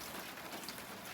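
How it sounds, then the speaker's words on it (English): Rain falls at night around a car wash, a steady, dense hiss of drops on hard surfaces with no other sounds breaking through. "And it's raining."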